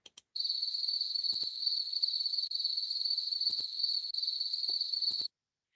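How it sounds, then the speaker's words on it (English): Brief sharp clicks of a pallid bat, heard as faint ticks repeating in small groups a few times, over a loud unbroken high chirring of crickets at night. "The pallid bat call consists of 2 to 3 audible sharp clicks in a row"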